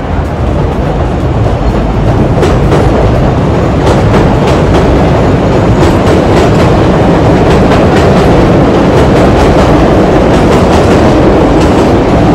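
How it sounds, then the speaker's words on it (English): A Chicago elevated train rumbles loudly and steadily on the tracks high above the city, with rhythmic clickety-clack from the wheels throughout. "the trains running high above the city like that"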